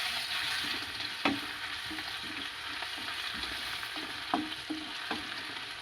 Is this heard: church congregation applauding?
no